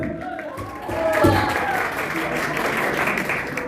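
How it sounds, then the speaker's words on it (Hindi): Applause from an audience at a live tribute concert in Dammam, a swelling patter of clapping that rises after a moment and carries on steadily to the end. "मुझे तो सिर्फ आपकी तालियां चाहिए।"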